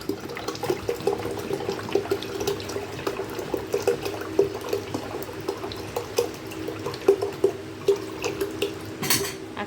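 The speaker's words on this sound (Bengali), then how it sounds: "আমি এখানে পরিমাণ মতনই জল নিচ্ছি।" Water is poured into a pot to make sugar syrup, giving a continuous splashing trickle with small metallic clinks of the vessel, close and steady for about ten seconds.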